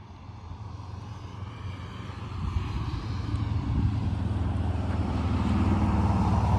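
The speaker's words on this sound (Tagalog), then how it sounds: "Yung exhaust brake, yung maingay na yun." A truck's exhaust brake on a mountain road grows into a loud, steady low rumble that rises over several seconds, heard from inside a vehicle.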